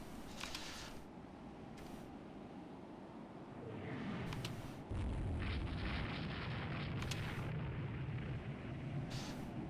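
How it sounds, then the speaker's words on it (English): A warship blowing up in the naval strategy game Rule the Waves 2, heard as a deep rumbling roar that swells and holds under sharp bursts of gunfire and crackle. "Oh, the Good Hope's blown up."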